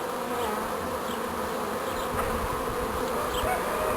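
Honeybee swarm moving into a hive box, a dense, continuous buzzing hum of many bees close by, steady throughout with no voices.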